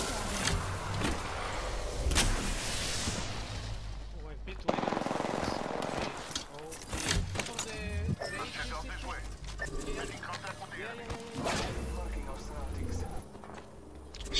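Automatic weapon fire from a multiplayer battle royale shooter, Apex Legends, in rapid repeated bursts and single shots through a busy team fight, mixed with mechanical clicks and players talking over it.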